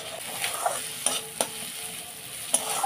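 Chopped nuts fry in a pan with turmeric powder, a steady soft sizzle broken by a few sharp scraping stirs of the spatula, close up and with no talking.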